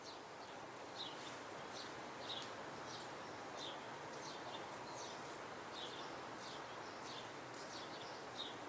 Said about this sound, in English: we're hearing a house sparrow